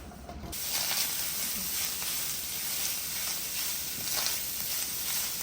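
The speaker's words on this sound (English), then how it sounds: "we are going to cook our onions until they become nice and translucent" Onions, garlic and ground meat for a shepherd's pie fry in a pan, giving a steady, close hiss and crackle of sizzling that holds at an even level throughout, with no talk.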